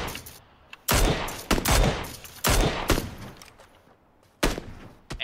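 Gunfire in a shooter video game: several loud, sharp bursts of shots cut in close, with quieter crackle and rumble between them and no one talking.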